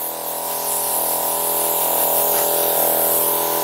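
Compressed air hisses loudly and steadily from the nozzle of a DIY onboard car air system, a continuous close blast with a faint tonal hum beneath it and no talking.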